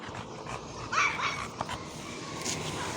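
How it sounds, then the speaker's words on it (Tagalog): Several dogs in a busy outdoor scene, with bursts of barking and high yips spread across the moment, mid-distance over a steady background hum. "Ang daming aso."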